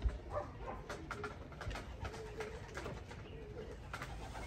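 Soft, repeated cooing from several pigeons mixes with wing flutters and faint background noise, moderately close.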